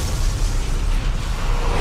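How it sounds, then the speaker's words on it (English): A sustained, roaring rumble from an explosion collapsing subway tunnels in downtown Gotham, heard as a dense, loud wall of low noise without distinct bursts in an audio drama sound effect. "Explosion, sir. Four subway tunnels collapsed from causes as yet undetermined."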